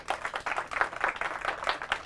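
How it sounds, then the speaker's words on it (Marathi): An audience applauds the quiz finalists at a school quiz event, a dense burst of many hands clapping briskly for about two seconds. "फायनलसाठी जोरदार टाळ्या त्यांना"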